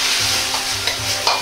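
Liver and garlic chives stir-fry in a hot wok as potato starch slurry goes in, a loud continuous sizzle with scraping and stirring strokes close up and no voices.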